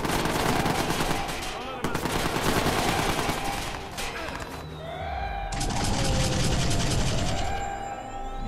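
Rapid automatic gunfire in the video game Watch Dogs, loud bursts of shots filling the scene with sirens and other game noise mixed in.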